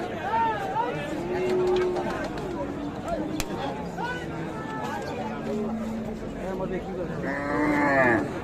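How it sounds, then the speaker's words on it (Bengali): Cattle, including bulls for Qurbani sale, moo repeatedly at a busy rural livestock market in Dinajpur, several calls near and far over a constant murmur of crowd chatter and voices. "ছোট বড় সব ধরনের গরু আছে আজকে হাটে।"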